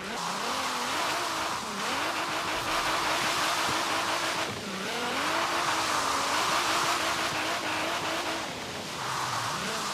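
A loud 1000-horsepower Nissan 240SX drift build engine in Forza Horizon 3 revs and whines continuously, pitch rising and falling as it accelerates and shifts, with occasional tire noise.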